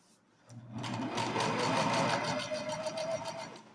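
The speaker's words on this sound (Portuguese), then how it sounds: "Vai ajeitando e vai costurando devagarinho que dá tudo certo." A sewing machine runs steadily as it stitches fabric slowly, a close, even mechanical whir that starts after a brief quiet moment and continues to the end.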